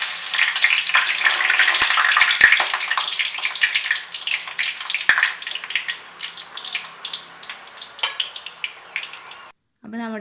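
Egg kebabs frying in a pan of hot oil, a loud steady sizzle that slowly thins into scattered crackles and pops, ending in a brief clatter.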